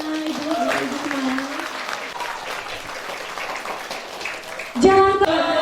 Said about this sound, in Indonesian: Beri tepuk tangannya Ibu semua.